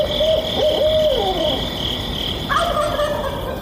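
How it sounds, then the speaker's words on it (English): A wild turkey tom gobbles in answer to an owl's hoot; hooting calls sound at a steady pitch while a rapid, rattling gobble breaks in midway, both heard outdoors at moderate distance. "why exactly do toms gobble at owls?"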